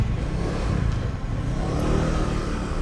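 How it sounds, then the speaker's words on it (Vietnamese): A vehicle engine starts and runs steadily on a trip near Dien Bien and Moc Chau in Vietnam's northwest, its broadband rumble holding at a constant level for about three seconds with no talk. "tôi cũng vào xe bắt đầu nổ máy"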